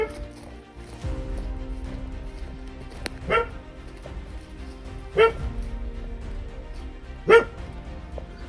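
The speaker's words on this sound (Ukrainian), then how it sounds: "О, и собака тут." A dog barks three times, short sharp yaps spaced a couple of seconds apart, at moderate distance over a quiet background hum.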